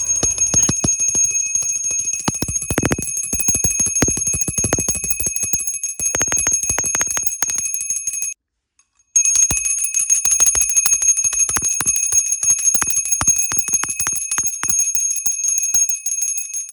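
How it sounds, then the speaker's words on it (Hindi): A brass puja hand bell rings rapidly and continuously during Hindu worship, a bright, sustained shimmering clang that stops briefly midway and then resumes just as loud. "और घंटी जो है ना आपको ज़रूर बजानी है।"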